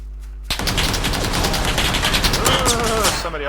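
Gunfire in PUBG rakes toward the player: after a half-second hush, a loud, dense barrage of rapid shots erupts and rolls on without a break, with a few faint voice-like traces buried underneath.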